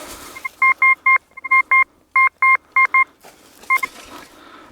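A metal detector in a field gives a series of sharp, pulsing electronic beeps in short bursts, loud and close, with rustling between tones.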